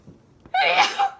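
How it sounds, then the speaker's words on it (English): A single loud sneeze right up close, a sharp breathy burst with a voiced, squeaky edge, after a short quiet inhale. "I gotta sneeze."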